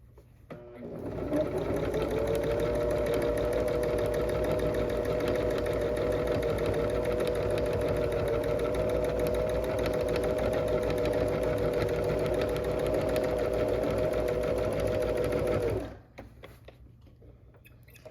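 A sewing machine stitches steadily while free motion quilting a scalloped pattern, a close, even mechanical whir that runs nonstop for about fifteen seconds before cutting off.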